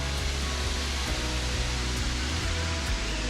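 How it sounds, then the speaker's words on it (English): Waterfalls at Byeongmokan in Anyang, Korea, giving a steady, dense rush of falling water that stays constant and fills the whole scene. "here these waterfalls"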